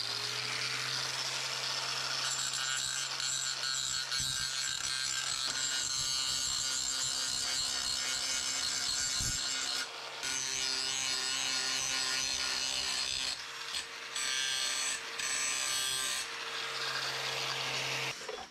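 An abrasive mill scale removal disc grinds against steel plate in a steady, harsh whir with a constant motor hum, shifting in pressure and briefly dipping a few times.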